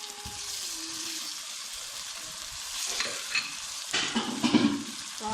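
Tomatoes tipped into a sizzling masala for a chicken and mash dal and stirred through: continuous frying hiss with scraping spoon strokes that grow louder and busier toward the end, no voices.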